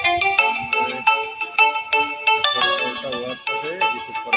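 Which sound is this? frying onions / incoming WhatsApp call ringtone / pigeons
incoming WhatsApp call ringtone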